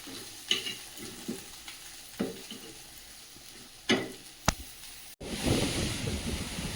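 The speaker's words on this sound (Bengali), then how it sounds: "এদিকে আলু আর ভেন্ডিটাও প্রায় ভাজা হয়ে গেছে।" Potatoes and okra fry in a pan with a soft, steady sizzle broken by occasional stirring knocks, followed by a sudden louder rushing noise.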